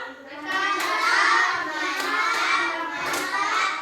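Schoolchildren in an Indonesian classroom chant and clap together in the "tepuk mantap" routine, a continuous loud group of young voices with rhythmic clapping throughout.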